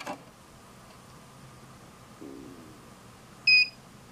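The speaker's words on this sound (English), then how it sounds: "That was my X-Tech meter beeping at me." A multimeter gives a single short electronic beep before auto power-off, clear and fairly close, against a quiet, faintly humming background.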